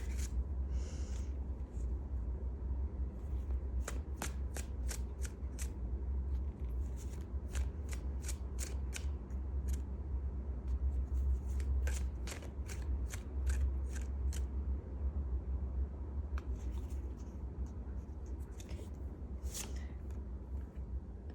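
A deck of tarot cards is shuffled close by, with riffling bursts and sharp snapping clicks repeating irregularly over a steady low background hum.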